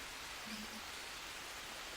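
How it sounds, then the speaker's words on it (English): Steady wet-season rain falls in the survival video game Green Hell, a soft even hiss of downpour with no other sounds. "we're now right in the middle of the wet season, because it hasn't stopped raining for I'm not sure how long"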